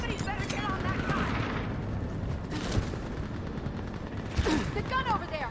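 Mounted gun firing in a Mass Effect 3 battle, steady bursts of rapid gunfire and booms rumbling beneath shouted voices throughout.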